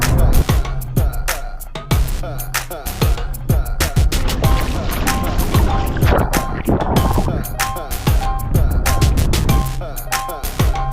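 Bixpy K1 electric outboard motor on an inflatable paddleboard running at full speed across a bay, a steady whirring drone mixed with water splashing, wind buffeting and rattling knocks, with no talk.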